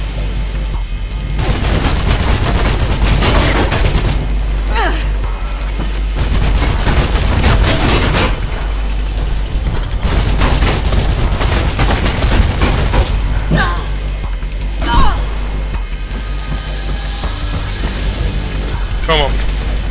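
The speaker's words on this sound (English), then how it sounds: "Stop shooting at me." Gunfire in the video game Mirror's Edge, dense bursts of shots and booms running through most of the stretch, loud and steady, with several sharper cracks standing out near the end.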